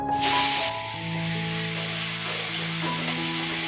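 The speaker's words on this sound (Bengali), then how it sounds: "ভাবলাম একটু আলু করলা ভাজা করে নিই" Potato and bitter gourd frying in hot oil give a steady, close sizzle, with a louder hiss burst at the start that settles into an even crackle.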